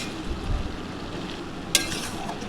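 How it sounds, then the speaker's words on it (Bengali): Prawns with ash gourd sizzle in a pan on a gas stove as a utensil stirs them, with a steady faint frying hiss, soft scraping and a single sharp clink partway through. "চিংড়ি মাছটা দেওয়ার পর ভালো করে নাড়াচাড়া করে জলটাকে শুকনো হতে দেব।"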